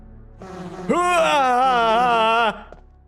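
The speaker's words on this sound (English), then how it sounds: "We're gonna run away from the bees." Bees in a Resident Evil video game: a loud, close, wavering insect drone that swells in, holds about a second and a half, then cuts off, with no talking over it.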